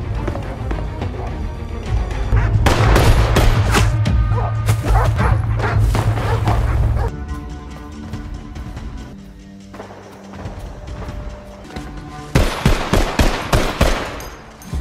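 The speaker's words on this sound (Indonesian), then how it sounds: "saling tembak-menembak dengan Wilder yang berhasil melumpuhkan beberapa anak buah Big Cat" Gunfire during a shootout in a film: bursts of sharp shots, first in a dense volley over a low rumbling score, then after a quieter stretch of music a second rapid string of close, loud shots near the end.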